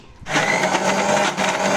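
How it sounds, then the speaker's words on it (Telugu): A mixer grinder jar grinds tomato paste with salt, starting abruptly after a brief quiet moment and then running as a loud, steady, close whirring roar to the end. "mixie mixie పట్టేస్తున్నాం"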